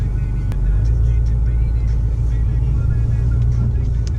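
A Shelby GT350 Ford Mustang pulls away from a dealership, its engine giving a loud, steady low rumble from inside the car throughout, with a voice talking over it.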